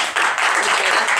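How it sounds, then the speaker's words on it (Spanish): Brief burst of studio audience applause welcoming a guest on a TV entertainment show, a dense, even wash of clapping. "vamos a recibir con un fuerte aplauso a Carol Dance"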